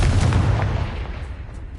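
A Confringo fire spell from the Hogwarts Legacy video game goes off as a loud, booming blast that rumbles and fades away over about two seconds.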